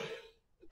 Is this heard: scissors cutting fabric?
no